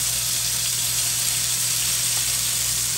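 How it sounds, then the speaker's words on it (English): Food searing in olive oil in a wok, a steady, even sizzle and hiss holding at one level for a few seconds, with a faint low hum underneath and no voices. "I'm just want to sear this a little bit in my olive oil over here in my wok pan."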